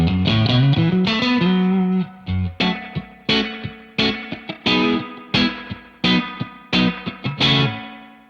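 Electric guitar played through a Keeley Hydra stereo reverb pedal: a strummed chord swell followed by a rhythmic run of picked chords, each ringing out with a lingering reverb tail, loud and close.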